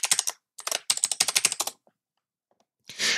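Computer keyboard typing during a login at a network gateway lab workstation, rapid bursts of close, crisp keystrokes, a pause, then a short rushing noise at the end.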